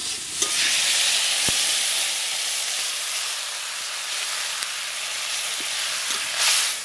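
Greens and potatoes seasoned with salt and turmeric cook in a pan after water is added, producing a continuous bright sizzling hiss with a few faint clinks, steady throughout and without speech.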